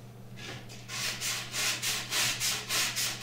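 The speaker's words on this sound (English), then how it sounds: "Then we sand the tube and the forward closure" Sandpaper rubbed over a rocket body tube and forward closure in steady back-and-forth strokes, about eight rhythmic rasping passes, close and fairly loud over a low hum, with no talking.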